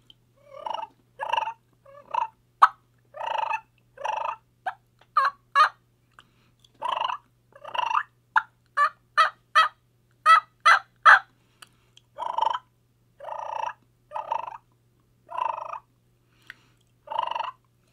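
A mouth call imitates turkey purring with a fluttering tongue, giving rolling, trilled purrs mixed with sharper clucking notes in loud, close bursts separated by short gaps, with no speech.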